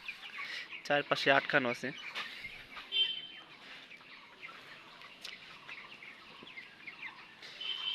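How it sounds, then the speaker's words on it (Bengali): Twenty-day-old chickens cluck and chirp inside a shed closed off on all sides against wind and rain, a busy scatter of calls near and far, while someone speaks over them at first. "এখন দেখেন মুরগিগুলা ছড়াই ছিটে আছে"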